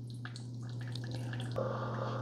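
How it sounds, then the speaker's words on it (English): A Keurig K-Slim coffee maker runs its vinegar descale cycle, dripping and gurgling softly over a low steady motor hum, with a brief louder sputter near the end. "it's done brewing the second cup through"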